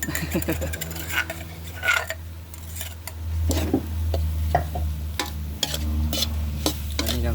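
Frogs stir-roasted with khae in a pan: steady sizzling and frying under repeated clinks and scrapes of a spatula stirring against the metal, close and busy throughout.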